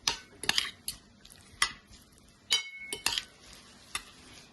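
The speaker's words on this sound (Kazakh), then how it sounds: "Әбден араластырып аламыз." A cold salad appetizer with garlic is stirred in a bowl, giving sharp scattered clinks and scrapes of utensils against dishware in irregular bursts, close and fairly loud, with no talking.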